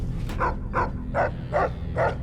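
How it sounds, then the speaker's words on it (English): A dog in the video game Fallout New Vegas barks five times at a steady rhythm, each bark short and fairly close, over a low background hum. "He's barking at Boone because Boone has a hat on."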